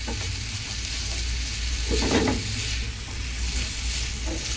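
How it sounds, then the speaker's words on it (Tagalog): Leftover chopped lechon, frozen and unmixed, sizzling in a pan as its fat renders, a steady close fry with a brief louder burst of stirring midway. "Ito, sinala ko lang sa kawali. Render ko lang yung fats."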